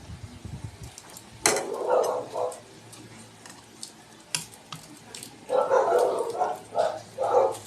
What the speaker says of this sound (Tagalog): Ayan naman yung aso.